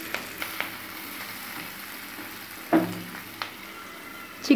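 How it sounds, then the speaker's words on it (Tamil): Shallots, dried red chillies, curry leaves and garlic fry in oil with a steady, moderate sizzle, punctuated by a few sharp spatula taps and scrapes. "இப்போ எண்ணெயில் சின்ன வெங்காயம் நல்லா வதங்கணும், வரமிளகாய், கருவேப்பிலை"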